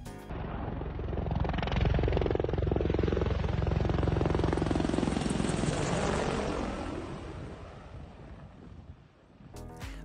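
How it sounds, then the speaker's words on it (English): An Apache attack helicopter passing very low overhead, its loud rotor thump and engine roar swelling to a steady peak and then fading away as it departs. "A closer look at an Apache helicopter flying really low."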